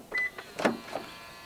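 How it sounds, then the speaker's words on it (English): A few quick mechanical clicks and whirs of a 2022 Perodua Alza's door locks engaging via the keyless door handle, close and fairly faint, lasting about a second. "To lock the car, press the ribbed area on the driver's side door handle."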